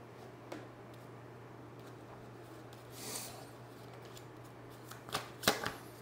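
Tarot cards are handled and shuffled at close range, a quiet papery riffle with a soft swell midway and a few crisp snaps and flicks near the end.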